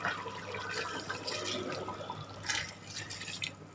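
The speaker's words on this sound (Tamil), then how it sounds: "மீதி உள்ள அஞ்சு கிளாஸ் தண்ணியை ஊற்றிடலாம்" Water pours into a pot of chicken biryani in a kitchen, a close, steady splashing gush with a few louder surges and no talk.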